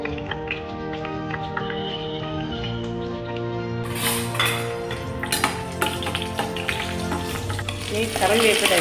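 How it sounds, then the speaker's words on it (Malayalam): Green chillies, chickpeas and peas sauté in hot oil after mustard seeds have spluttered for lemon rice, a continuous close sizzle with occasional clinks of a spoon against the pan over steady background music. "കടുക് പൊട്ടിയതിന് ശേഷം പച്ചമുളകും കടലയും പട്ടാണിയും എല്ലാം ഇട്ട് വഴറ്റും."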